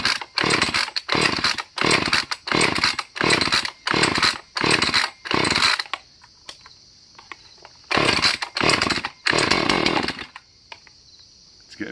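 Husqvarna 450 Rancher chainsaw starting: a run of rapid loud pull-start bursts, a pause with a faint whine, then the engine catching and revving again in close, loud surges.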